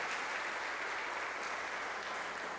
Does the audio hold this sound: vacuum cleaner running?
no